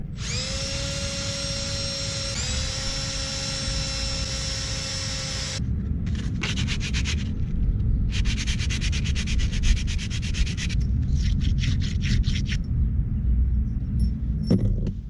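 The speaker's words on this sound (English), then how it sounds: "These pins are really rusty and dirty, and that's what the brake pads slide on, so I'm going to clean those up." Rusty, dirty brake caliper slide pins from a VR4 front brake overhaul being cleaned with a power tool: a steady whining buzz gives way to bursts of abrasive scrubbing and grinding, loud and close, with no talk.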